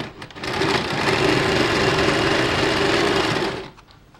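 A sewing machine stitches blouse fabric in a single burst of rapid, even needle whirring lasting about three seconds, starting and stopping cleanly.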